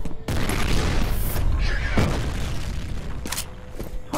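Heavy, dense booms and crackling blasts from grenade explosions in the video game F.E.A.R. roll on continuously, loud and chaotic with overlapping gunfire-like bursts.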